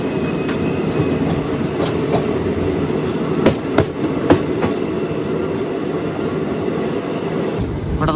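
Chennai–Alappuzha superfast express running on rails near Perambur, heard from inside an LHB coach as a steady loud rumble with scattered wheel clicks and clatter throughout.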